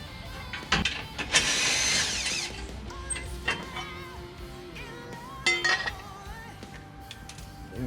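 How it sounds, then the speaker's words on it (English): A power drill whirs in a short burst while driving screws through the tabs of a steel 4x4 bash plate. Metallic clinks and handling knocks follow. "These two tabs here fit over the back and screw in that way"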